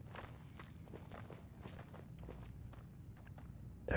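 Footsteps of other players on the floor above in Fallout 76, a steady run of muffled, rhythmic steps with some low rumble underneath, moderately near, ending in a sharper louder thud.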